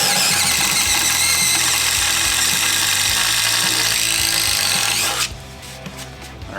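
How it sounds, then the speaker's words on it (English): DeWalt 887 impact driver boring one hole with a 1/2 inch standard wood bit on a 1/4 inch hex shank, a loud steady whir with rapid impacting for about five seconds, then stopping abruptly. "And now we just have a 1/2 inch standard wood drill bit with the 1/4 inch hex shank. We're going to do 1 hole each."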